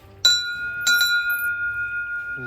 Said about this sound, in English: Ring the bell hard against bears.